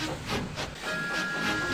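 A steam engine chuffs past nearby in rhythmic hissing puffs, with a steady whistle tone sounding over the rolling train noise.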